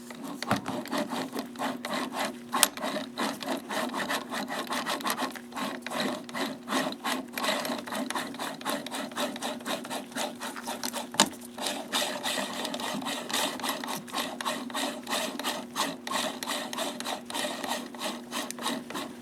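The joystick elevation mechanism of a Zeiss SL-120/130 slit lamp, freshly greased, grinding with a rapid rhythmic scraping and clicking, steady and close, with a couple of sharper knocks.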